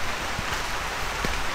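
Rain falling steadily on a hiking trail up Penang Hill (Bukit Bendera), Malaysia, a dense even hiss with a couple of faint soft drips, with no one talking.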